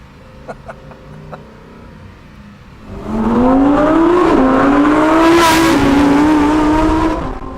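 A Lamborghini Huracán STO sits quiet with faint clicks, then its engine roars up about halfway through into a loud, sustained, rising howl as the car accelerates, close and dominant.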